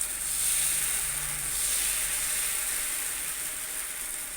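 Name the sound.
wheat dosa batter sizzling on a hot pan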